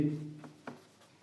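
Pen strokes on paper while working a Class 10 trigonometry problem by hand, heard as three or four short, faint scratches spaced apart over a low steady hum.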